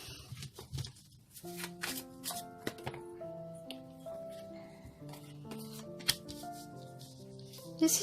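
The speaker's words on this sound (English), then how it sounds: "One more shuffle." A tarot deck is shuffled by hand, giving bursts of crisp riffling and card slaps close up, with gentle music playing behind.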